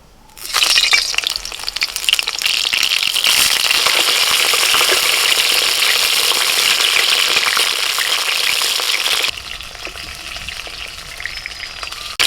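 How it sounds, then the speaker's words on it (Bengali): Egg-stuffed steamed parwal (pointed gourd) frying in hot mustard oil in a kadai, a loud, dense sizzle that starts abruptly and holds steady before dropping to a softer crackle near the end. "ডিমের পুর ভরা ভাপানো পটলগুলোকে এবার একটুখানি হালকা করে ভেজে নেব"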